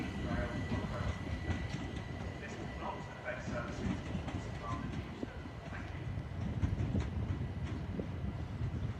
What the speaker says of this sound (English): the 1401 London Overground service to London Euston